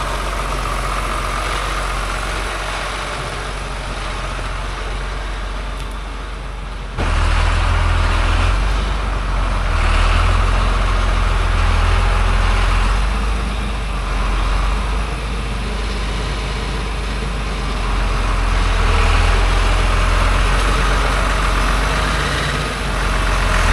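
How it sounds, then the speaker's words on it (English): A two-wheel drive tractor engine runs steadily on a muddy ranch, a loud low idle drone that steps up in level partway through and holds with slight swells, no voices over it. "I don't know how well the two-wheel drive tractor is gonna fare in this muddy stuff."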